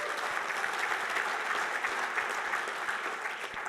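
Applause from the audience at a university Hall of Fame induction ceremony, a steady wash of many hands clapping for the inductees, moderately distant and even, with no speech.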